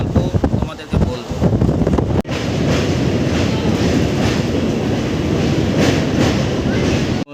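A passenger train bound for Digha rolls along at steady speed, its loud, continuous rumble and rattling wheels mixed with wind buffeting the microphone, interrupted by one brief sharp dropout.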